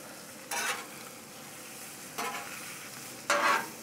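Ribeye steak frying with butter on a Blackstone 22-inch XL griddle: a faint, steady sizzle with three short bursts of louder hissing as butter hits the hot surface, heard alone.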